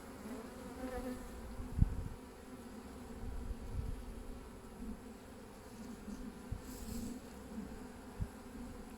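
Low, steady insect buzzing from many bees, fairly quiet and continuous, with a few soft thumps and knocks close by.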